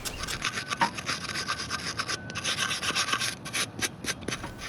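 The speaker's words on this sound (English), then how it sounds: "in this case I have a metal wire brush." A metal wire brush scrubs an alternator bracket in fast, rasping back-and-forth strokes. The scratching is close and steady throughout, with no talking.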